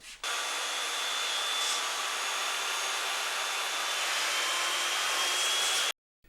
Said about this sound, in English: I secure the cutting guide with screws and, using the circular saw, make the cut.